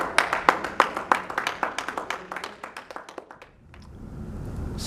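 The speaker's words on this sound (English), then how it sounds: "One more round of applause for both of them." A small audience at a public library reading claps for about three seconds, sparse distinct handclaps at a steady pace that thin out and stop, leaving quiet room sound.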